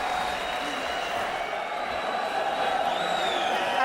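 Boxing arena crowd at a WBC super-middleweight title fight cheering and applauding in a continuous roar, with a commentator talking over it throughout.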